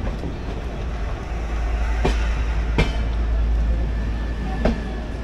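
The Ala Hazrat Express rolls along the rails with a low, steady rumble, sharp clanks ringing out at intervals as the carriages pass over joints.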